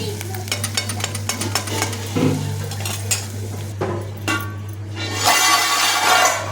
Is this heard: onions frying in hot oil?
yes